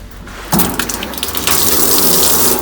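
Cold water from a newly plumbed tap with push-fit fittings in a home brewery bursts on suddenly after a quiet start. It then gushes steadily and loudly, close by.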